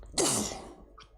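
A single sharp sneeze bursts out close to the microphone, then trails off into a breathy fade with a faint sniff at the end.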